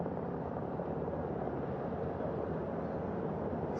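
Helicopter flies over the Pacific Ocean, a steady broadband rotor and engine roar at moderate distance, continuous and unvarying, with no voices.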